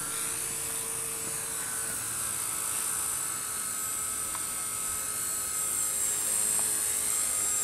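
A Walkera 4G3 upgraded double-brushless micro RC helicopter flies nearby, giving a steady, thin, high-pitched electric whine and buzz with no pauses and no talking.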